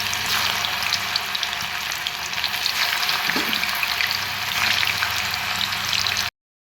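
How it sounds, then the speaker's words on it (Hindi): Cauliflower pieces deep-fry in hot oil for restaurant-style chilli kobi, a dense, close bubbling sizzle that holds steady for about six seconds before cutting off abruptly into silence. "एबे हमें कोबी को गोटे गोटे करी पके के छाणी नेबा।"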